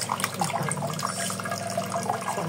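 Sweet potato leaves being rinsed in a basin of water, a steady splashing and trickling wash close by, continuous and fairly loud for its length.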